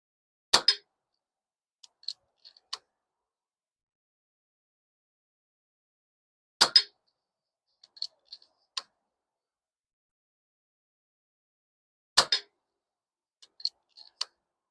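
A Katran air rifle fires three evenly spaced shots, each a sharp crack followed by fainter ticks and clicks as the pellet strikes the target, all in near silence between.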